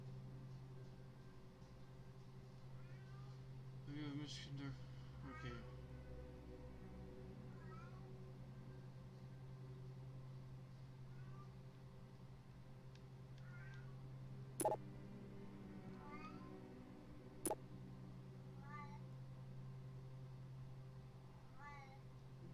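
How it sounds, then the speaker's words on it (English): A pet cat meows repeatedly at a closed door, trying to get into a room. The meows come in short, scattered bursts over a steady low hum, with a couple of sharp clicks and one brief spoken word. "Kitty, why are you meowing?"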